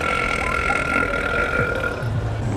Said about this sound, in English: I drink too much soda. Sorry about that. I'm burping a lot.